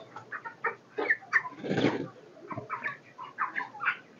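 Broiler chickens raised for meat, birds weighing over two kilograms, cluck in a nearby pen with short irregular calls and one louder flurry of squawking midway.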